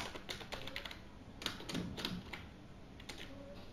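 Keystrokes on a computer keyboard while a Python guess-the-number program is entered, a quick irregular run of light clicks with short pauses, close and fairly quiet.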